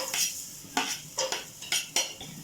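A utensil scrapes and stirs sliced onions in hot oil inside a cooking pot for duck tinola, making about five distinct, close scraping strokes with a faint sizzle underneath and no talking.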